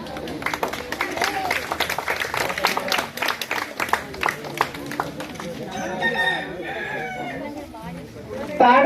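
Audience clapping at an outdoor rangoli competition prize-giving, a dense patter of claps under a busy mix of crowd chatter and a loudspeaker voice, with a rooster crowing in the background.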